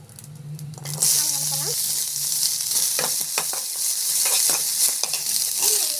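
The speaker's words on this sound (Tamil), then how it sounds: "நல்லா வந்து வதக்கிக்கலாம்" Carrot, onion, curry leaves and chili sautéing in oil, giving a loud, steady sizzle that starts about a second in and continues throughout, with scattered stirring clicks.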